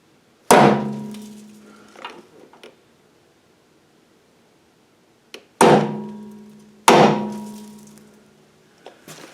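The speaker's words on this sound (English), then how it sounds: "we'll mark that with a center punch" Sharp metallic strikes of a hammer on a center punch, marking a hole spot for an LED light bar mount; three loud, close blows with ringing decay, spaced apart, plus faint handling clicks between them.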